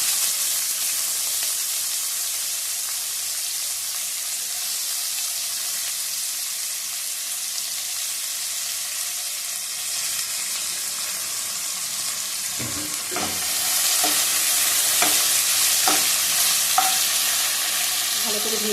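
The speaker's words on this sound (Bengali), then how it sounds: "ভালো করে ভেজে নেব" Chopped onion fries in oil with bay leaves, giving a steady close sizzle; later a utensil scrapes and stirs the pan in several rhythmic strokes as the sizzle brightens.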